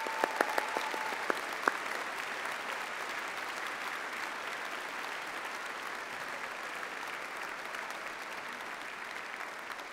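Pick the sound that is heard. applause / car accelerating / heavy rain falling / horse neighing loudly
applause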